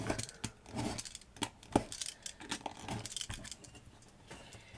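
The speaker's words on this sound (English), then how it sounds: "I'll just use the knife again. Cut that." A craft knife cuts through miniature house material on a work surface, a series of close, irregular scraping and snapping cuts with soft handling noises between them.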